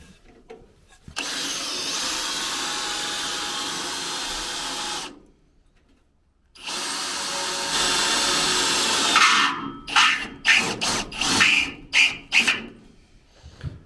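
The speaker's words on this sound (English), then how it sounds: "Good drill bit, rubbish drill." A power drill whines steadily for several seconds, stops briefly, runs again, then breaks into short stuttering bursts; loud and close.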